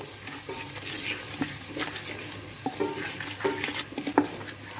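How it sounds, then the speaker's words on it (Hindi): Kashmiri chili powder and masala being stirred into raw meat for a steam roast, with repeated soft, wet scraping and squelching strokes close by, no talk. "इसको हम अच्छे तरीके से मिक्स कर लेंगे।"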